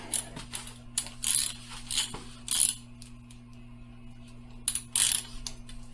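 A socket wrench with a 22 mm socket tightening the axle nut on a Marc Parnes wheel balancer for a BMW airhead motorcycle wheel, giving bursts of close ratcheting clicks separated by pauses, over a steady low hum.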